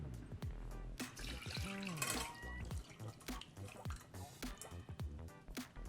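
Cooking water from boiled ivy gourd drains out of a pressure cooker, dripping and splashing in close, uneven bursts with liquid sloshing over a faint background tone.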